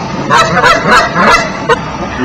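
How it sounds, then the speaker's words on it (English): Canada geese at a wetland wildfowl reserve honk loudly in a quick series of about five harsh calls, close and clear over a steady outdoor background. "No mistaking the familiar lines of these Canada geese"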